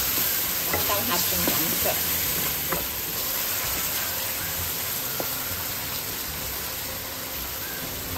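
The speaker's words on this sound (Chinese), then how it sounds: "蒜米打下去爆香。" Minced garlic fries in hot oil in a wok with a steady, dense sizzle. Stirring scrapes sound near the start, and a voice speaks briefly over the frying.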